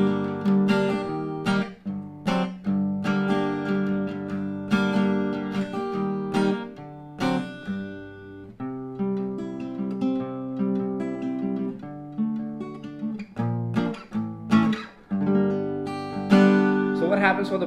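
Electric guitar plays the bridge of a song, strummed chords ringing out in a steady rhythm with sharp attacks and brief pauses between phrases, played alone without talk.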